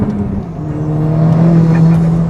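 The engine of a Stage 3 Ford Fiesta ST hot hatch, rated at more than 340 bhp, drones steadily and builds gently under throttle, sounding close and loud in a short, continuous burst.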